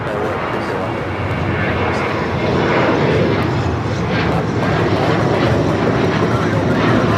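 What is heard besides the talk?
Alaska Airlines Boeing 737-800 taking off at LAX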